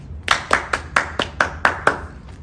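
A small group claps in a loose, uneven rhythm, about eight or nine sharp hand claps spread over two seconds, close and moderately loud in a quiet room.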